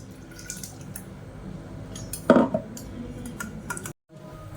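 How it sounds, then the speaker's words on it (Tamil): Ground rasam mixture poured through a kitchen strainer, giving drips and liquid trickling with a sharp clink of metal or glass partway through, close and fairly loud in a quiet kitchen. "இது நம்ம வடிகட்டி எடுத்துக்கலாம்."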